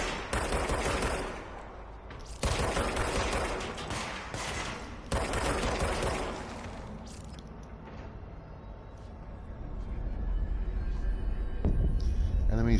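Sustained bursts of enemy gunfire in the video game Control, a dense, loud rattle of rapid shots that cuts off and resumes in several long volleys, mixed with game sound and a talking voice.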